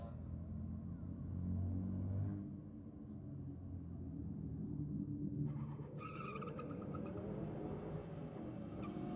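A Ute spinning its tyres at the start line of a drag race: a deep engine rumble builds, eases off, then returns with a harsh, broadband tyre-squeal burst partway through, fairly close and loud, with no talking.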